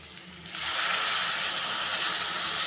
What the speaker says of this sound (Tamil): புளி தண்ணியை சேர்த்துக்கிறேன்